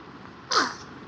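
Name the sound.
sneeze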